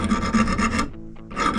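A metal file rasps across a wooden guitar bridge being shaped, in repeated close, loud strokes that pause briefly near the end before filing resumes.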